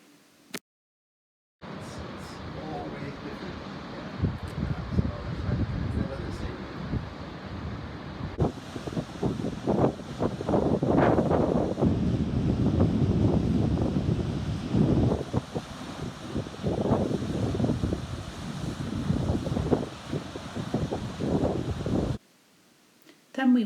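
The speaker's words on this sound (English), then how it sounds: "we sat there for a couple of minutes and just watched those waves rolling in" Ocean waves rolling in on a windy Fuerteventura coast: a steady, broad wash of surf churning with heavy wind buffeting the microphone, sustained and fairly loud for about twenty seconds.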